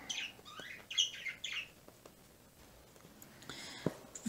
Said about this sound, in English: Birds are happy.